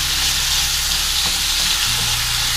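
Chicken pieces fry with onion in a pan, a loud, dense sizzle heard up close, with a low stirring scrape partway through and no speech.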